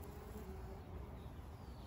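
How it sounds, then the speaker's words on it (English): Bees hum close by around a blooming Ceanothus Victoria hedge outdoors, a faint, steady drone with no one talking. "Now there's a lot of bees around me,"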